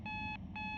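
An alarm clock in a horror video game beeps in two steady electronic pulses, the second cut short, heard alone at low volume.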